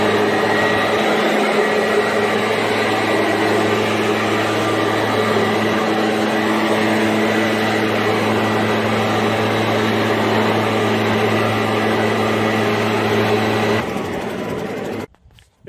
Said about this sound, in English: First thing I always do is put the leaf blower to it and blow off any dust before I seal